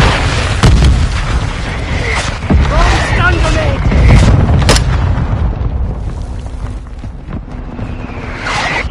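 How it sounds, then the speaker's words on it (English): Mortar shells detonate in a military shooter game, booming in several heavy blasts against a constant din of battle, with game voice lines heard over it. "Friendly mortar strike inbound."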